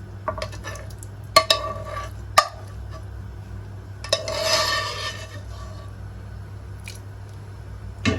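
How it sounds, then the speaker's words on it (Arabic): Mushrooms are stirred into a sauce in a pan for a meat and mushroom dish, with wet squishing, soft sizzling and a few sharp clinks of a utensil against the pan, close and fairly quiet. "وهنقلب المشروم مع الصوص بتاعنا بالشكل ده"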